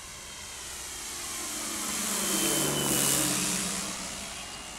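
A giant 2 m balsa Turbo Timber RC plane on 6S power drones past in a slow flyby, its propeller whine swelling as it nears, peaking mid-clip, then easing off, steady and fairly loud with no talk.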